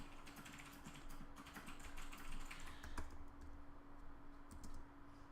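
Rapid, fairly quiet typing on a computer keyboard, with keystrokes clustering into fast runs over a constant background hum.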